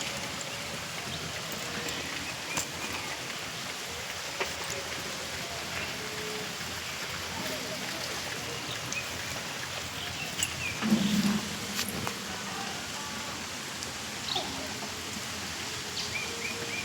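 Steady monsoon rain falls on village ponds and flooded ditches, a dense, even hiss that stays constant throughout, with faint scattered bird calls in the background and no voices.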